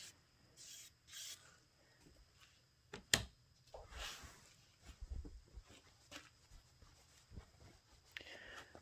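A rag wiping and patting excess stain off wood: faint, close rubbing and dabbing strokes, irregular and soft, with occasional light knocks and handling noises, quiet throughout.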